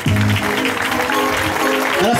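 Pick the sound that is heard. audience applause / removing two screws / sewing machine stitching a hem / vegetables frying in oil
audience applause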